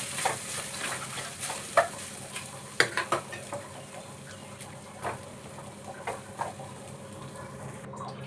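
Cooked rice being stirred and mixed in a pan on a switched-off stove, with soft scraping and sporadic spoon clinks against the pan, close and fairly quiet, with no talk.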